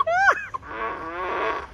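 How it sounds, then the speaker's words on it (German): A fart sound effect, likely played from a Tesla car, comes as a close, loud, buzzy blurt with a sweeping pitch, then a second longer, wavering raspberry-like rumble. "Achtung, der Pups"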